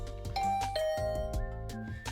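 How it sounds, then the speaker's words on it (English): A doorbell rings in the video game The Hundred Line, a soft electronic chime of a few sustained tones. It sounds alone over faint background music. "I rang the doorbell and Tsubasa opened the door"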